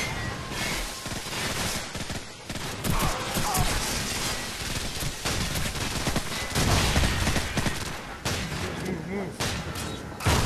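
Gunfire in Call of Duty 4 during an indoor firefight, sustained bursts and single cracks that overlap with explosions and game noise, loud and continuous across the whole stretch.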